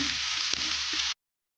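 Green chilies, onion and curry leaves frying in oil for a rasam, a steady close sizzle with a faint stirring tap before it cuts off abruptly.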